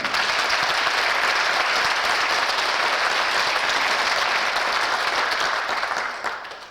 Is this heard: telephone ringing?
no